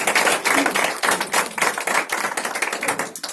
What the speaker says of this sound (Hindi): हम पवित्र आत्मा के लिए जोरदार ताली मारे।